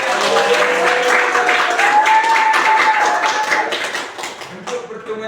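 Students in a classroom break into applause, a lively burst of many hands clapping close by that holds steady, then thins out and tapers off near the end, with a voice heard alongside.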